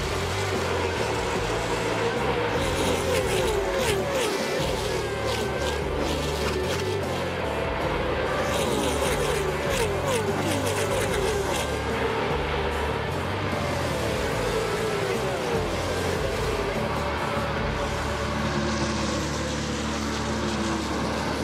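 NASCAR race cars racing on track around 1999-2005, a dense pack roaring continuously and loudly from start to finish, engines droning and shifting as cars pass, with no one talking.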